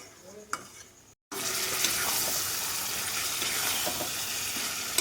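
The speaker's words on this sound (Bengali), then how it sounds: "এখন সুন্দর কইরা ভালো করে নাইরা চাইরা মিনিট পনেরো সময় নিয়ে কষাই নেব" Snail meat stir-fried with salt in a wok: after a quiet start with a clink and a brief gap, a loud, continuous sizzle with faint stirring scrapes fills the rest.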